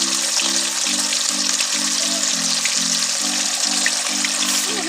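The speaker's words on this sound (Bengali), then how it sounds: "এবার চিকেন চাপে চিকেনগুলো আমি তেলে ভেজে নেব" Chicken pieces for chicken chaap fry in hot oil with a steady, dense sizzle throughout, loud and close, while a low, tonal hum steps between pitches underneath.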